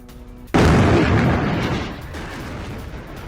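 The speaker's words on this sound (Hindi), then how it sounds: "गाजा में इजराइल का प्रचंड विध्वंस, हमास के ठिकाने पर बरसाए गए बम" Bombs from an Israeli air strike on Hamas sites in Gaza burst with a sudden loud blast after a quiet hum, followed by a long rumbling roar of debris that slowly fades.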